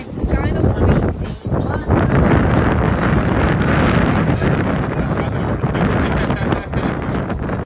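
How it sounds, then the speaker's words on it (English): Strong, steady wind on a boat batters the microphone with loud, continuous rumbling buffeting and gusts that dip only briefly. "It's kind of windy."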